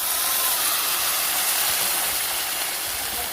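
Beef broth pours into a pot of beef pilau, a steady, loud, broadband hiss and sizzle that lasts the whole time with no talk over it.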